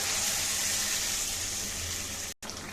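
Liquid poured into a pan for a rohu fish curry, a steady close watery rush running for a couple of seconds with a brief break near the end, no voices.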